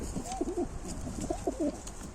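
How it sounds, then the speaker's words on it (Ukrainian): Ukrainian high-flying pigeons of the coffee-coloured variety coo softly nearby, repeated low throaty warbling calls overlapping one another against faint background noise. "Тут ви бачите кавові, які дають собі подібних кавових голубенят."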